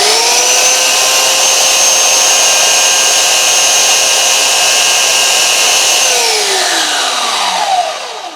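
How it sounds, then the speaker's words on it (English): A small block Chevy cylinder head is ground with a high-pitched, steady power grinder whine that holds close and loud for several seconds, then winds down at the end. "So I stay away from this section right here and I'll grind this side right here."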